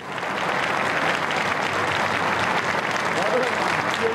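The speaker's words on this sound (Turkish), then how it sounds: "Metin Göktepe'nin annesi Fadime Göktepe salona alkış sesleri içinde geldi" Steady applause from a crowd in a hall as a journalist's mother enters, dense continuous clapping at an even level throughout with no break.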